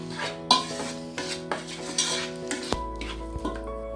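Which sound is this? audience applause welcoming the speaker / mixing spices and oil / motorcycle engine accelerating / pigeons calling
mixing spices and oil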